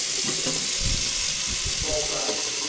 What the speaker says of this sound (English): when I run water, it won't take very long to demonstrate